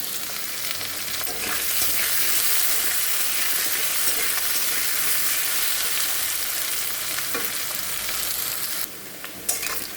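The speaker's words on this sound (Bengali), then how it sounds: "আলুগুলো ভাজা হয়ে গেছে" Lightly boiled potatoes sizzle in oil in a kadai for aloo dum, a dense continuous frying hiss with faint stirring scrapes, near and steady, briefly dipping at the very end, no voices.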